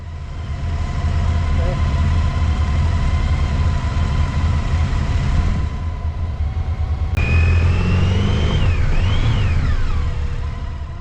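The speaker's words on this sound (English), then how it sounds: "I move away so the car can pass." Engine rumble near a road in southern Spain, low and steady, with a brighter rising and falling engine tone appearing partway through as a car comes closer, loud and sustained.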